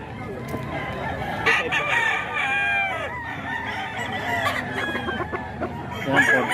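Rooster crowing repeatedly in a fowl yard, several loud close crows overlapping with hens clucking, while a voice talks faintly in the background.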